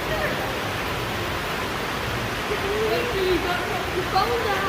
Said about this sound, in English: There you go, you can see the river.